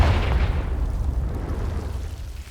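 A Confringo fire spell in Hogwarts Legacy bursts with a heavy, rumbling explosion that starts loud and slowly fades over a couple of seconds.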